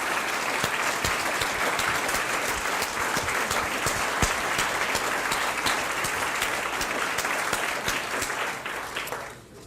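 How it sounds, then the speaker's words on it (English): Loud, dense applause from the audience at a 2018 State of the City Address, a sustained roar of many hands clapping close by for nearly ten seconds before it tapers off at the end. "Please stand up so we can give you a round of applause."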